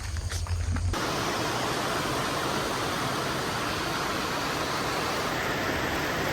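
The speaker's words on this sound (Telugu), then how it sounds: "కొల్లెం స్టేషన్ వర్షం చూడండి." Rain pours steadily at Kollem railway station, a dense, even hiss of falling water filling the air, with a brief low rumble at the start.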